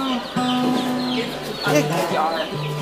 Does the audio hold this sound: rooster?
yes